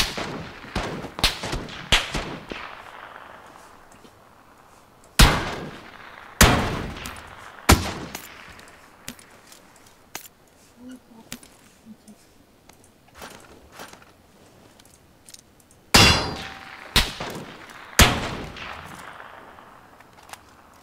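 Sniper and rifle gunshots crack out one at a time in a PUBG-style battle royale match, loud sharp reports at irregular intervals with quieter gaps and a faint echo between them.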